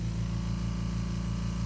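A spray paint can hisses steadily and continuously as white paint goes on over a stencil, loud and close. A low droning hum runs underneath the spray.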